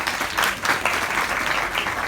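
An outdoor crowd at an open iftar in Tudor Square, Sheffield, applauds with dense, steady clapping that holds at an even level throughout.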